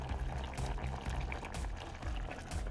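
Sri Lankan mango curry simmering in a covered pot, giving a steady low bubbling and hiss that stays even throughout at a moderate, close level, with no talk.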